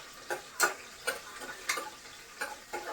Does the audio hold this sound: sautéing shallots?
yes